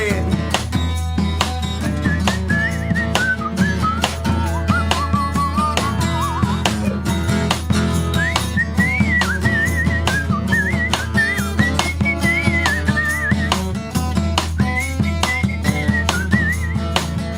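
A melodic whistled tune carries over a full band backing with drums and bass, the whistling phrases rising and pausing throughout.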